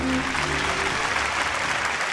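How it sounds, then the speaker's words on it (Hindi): Studio audience clapping on a Bhojpuri television game show, a steady loud wash of applause with a low musical tone underneath in the opening second. "ताली बजाओ भाई"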